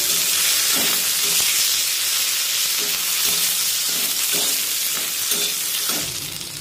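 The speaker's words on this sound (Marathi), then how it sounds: "1 चमचाभर मी यामध्ये तेल सोडते आणि पुन्हा एकदा मिरची परतून घेऊया" Green chillies fry again in a spoonful of oil for spicy tomato thecha, giving a loud, continuous hiss of hot oil close by. Periodic scraping strokes from stirring rise out of the sizzle every second or so.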